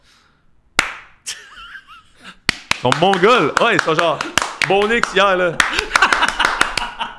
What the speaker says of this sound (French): S'applaudit avant de lancer la balle.